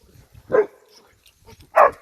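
A Polish hound, a black-and-tan scenthound, gives two sharp, close barks separated by a short pause, with faint background noise between them.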